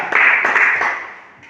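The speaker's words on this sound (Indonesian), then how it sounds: "Tepuk tangan dulu untuk kelompok 4" A group of classmates in a classroom claps for group 4, a short burst of close, dense hand claps that quickly thins and fades.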